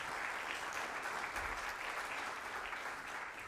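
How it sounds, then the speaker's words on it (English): At an agricultural innovation challenge award ceremony, an audience gives a dense, steady round of applause, close and uniform throughout, with no speech over it. "Let's give another round of applause"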